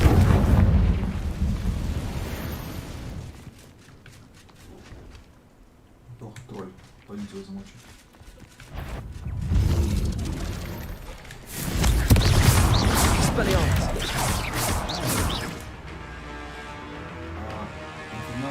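Fiery Confringo spell blasts in Hogwarts Legacy: repeated loud, booming bursts with crackling fire and rumbling impacts during combat, layered with game music and effects, in close succession.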